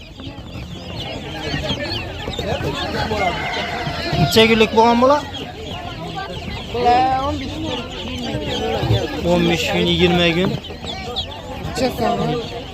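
Ducklings and other poultry cheep and cluck continuously at a busy poultry market in Pitnak, Khorezm, Uzbekistan, with people talking over the birds throughout.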